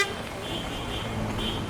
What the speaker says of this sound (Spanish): Una gran caravana de vehículos que viene acercándose una tras otra, todos con la bocina bien en alto